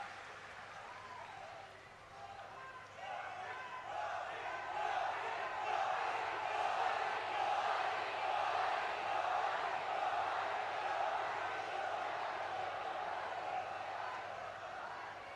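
A large outdoor crowd at a Prime Minister's public rally in Bhinmal, Jalore, claps and cheers loudly and steadily, the applause swelling after a couple of seconds and holding throughout.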